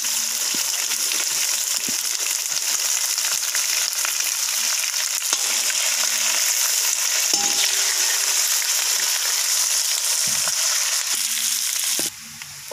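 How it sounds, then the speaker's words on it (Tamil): Onions fry in a hot pan with curry leaves, a loud continuous sizzle and crackle that holds steady, with a few faint utensil clinks, before cutting off near the end. "வெங்காயம் போடுறோம்."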